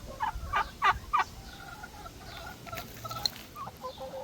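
A small backyard flock of chickens clucks and murmurs softly at a distance, several short bursty calls early on followed by scattered quieter clucks over low ambient noise.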